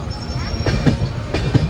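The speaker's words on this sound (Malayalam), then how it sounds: "വണ്ടി മുംബൈ LTT നിന്ന് ഹരിദ്വാറിലേക്ക് പോകുന്ന Haridwar AC super fast express ആണ് കേട്ടോ" The Haridwar AC Superfast Express, running from Mumbai LTT to Haridwar, passes close by with a brief rumbling rush of wheels and rhythmic rail clatter, heard from a moving train.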